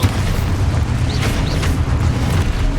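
Spell explosion from the Expulso charm in Hogwarts Legacy, a loud, sustained booming rumble with a couple of brief whooshing accents over dense game noise, no talking.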